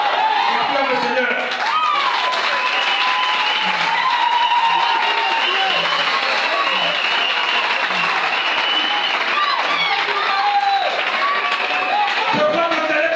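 A church congregation applauds, a dense, loud, continuous clapping that fills the space and holds steady throughout, with a preacher's voice and crowd voices over it.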